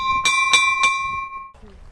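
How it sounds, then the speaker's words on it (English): A small bell at a little church on the beach, rung by hand: three bright, ringing strikes in steady rhythm that leave a sustained tone hanging, close and fairly loud, with faint voices and outdoor background underneath. "I'm ringing the bell anyway"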